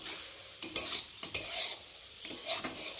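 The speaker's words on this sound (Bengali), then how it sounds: "তো দেখো ধনে পাতা দিয়ে আর এখন ভালো করে একটু নাড়ছি।" Egg bhujia with coriander leaves is stirred in a pan, a soft steady sizzle broken by sharp scraping clicks of the spatula at an irregular rhythm, close and fairly quiet.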